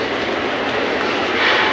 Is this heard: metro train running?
yes